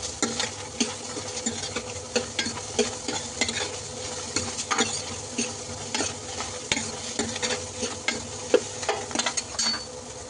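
Onion frying in oil in a pan for mushroom masala, a steady crackling sizzle with frequent stirring clicks throughout.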